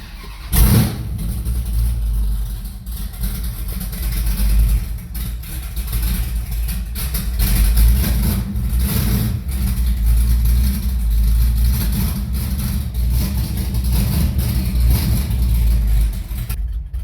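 An old X1 car's engine fires up with a sharp catch just under a second in, then settles into a steady, loud, rumbling idle that carries on unchanged for the rest of the clip, heard close and alone without voices.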